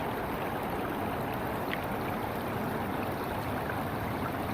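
Gold pan material being washed in water while testing a recon sluice: a steady, continuous splashing and swishing wash that stays even and fairly quiet throughout, with no voices.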